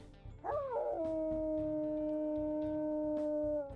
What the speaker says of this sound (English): Let's go ahead and listen to the howls.